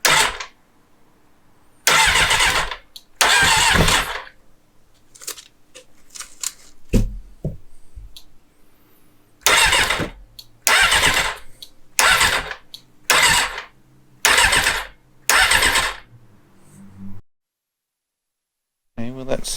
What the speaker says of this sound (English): that seems like the engine was turning over to me